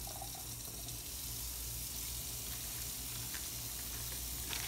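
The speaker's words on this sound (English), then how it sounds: "I'm gonna turn the water on so that it's warm" Warm water running steadily from a surgical scrub sink tap, a constant close splashing rush with no pauses and no talk.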